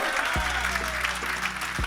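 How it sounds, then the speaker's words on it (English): An audience at a gathering for a Sikh Helpline charity bike ride claps in sustained applause, a dense and fairly loud patter of many hands with a few sharper thumps, while someone speaks briefly underneath. "So can we have a round of applause for Kiran, please?"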